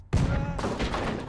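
A single sudden booming blast erupts and rumbles on with a heavy, crackling decay, a cannon firing in the video game Henry Stickmin Collection.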